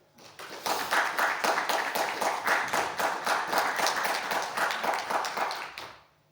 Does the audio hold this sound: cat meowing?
no